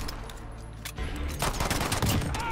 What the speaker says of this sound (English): I just switched to my pistol and tried to kill him.